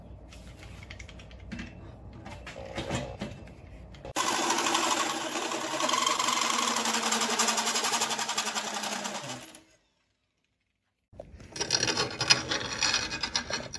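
A loud, steady grinding as a 1.5-inch hole saw bites through metal runs for several seconds, then cuts off into silence before harsher scraping resumes.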